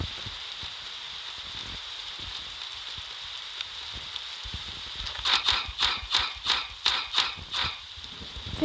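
Steady rain falls as a constant soft hiss in a survival game, with a burst of sharp rhythmic tapping near the end.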